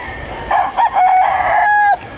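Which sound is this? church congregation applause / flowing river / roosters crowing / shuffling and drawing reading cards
roosters crowing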